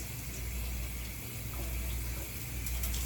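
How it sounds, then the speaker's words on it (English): Rice being rinsed in a sieve under running water at a kitchen sink: a steady, close rush of flowing water that continues unbroken, with no talking. "I always wash my rice into a sieve"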